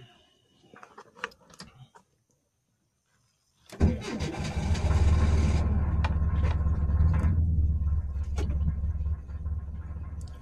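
A 1986 Renault Super 5 GTL engine cranks after a few faint clicks and a brief silence, then catches and settles into a loud, close, rough idle that steadies and drops slightly near the end.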